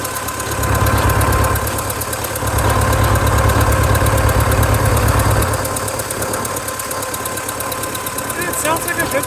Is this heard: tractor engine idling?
yes